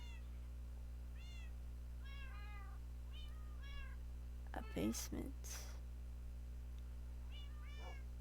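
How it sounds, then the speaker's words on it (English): Several cats in a Minecraft game give repeated short meows scattered through the clip over a steady low hum, with a brief louder burst of game sounds midway and a person speaking briefly. "I did not realize they had this many cats."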